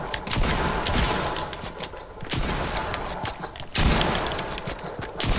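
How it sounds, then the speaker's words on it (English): Gunfire erupts in Fortnite, a rapid series of sharp, loud shots and bursts crackling close by with uneven rhythm and a few heavier impacts, with no talking over it. "Someone's shooting at me."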